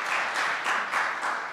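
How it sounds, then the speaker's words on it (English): Brief burst of audience applause at a conference opening plenary, many hands clapping in a dense, even patter at moderate volume with no voices over it. "So yes, let's applaud that."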